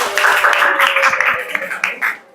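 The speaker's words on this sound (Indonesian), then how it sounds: "Oh, tepuk tangan dong." Classroom applause from students after a group presentation, a burst of close clapping with some voices mixed in, fading out toward the end.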